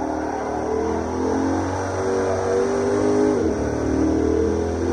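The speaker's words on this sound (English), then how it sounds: "And the engine sounds really good. It's a lot louder" Lexus IS F engine in the racing game Assetto Corsa, revving loud and steady with a layered droning tone that dips briefly partway through, with no talk.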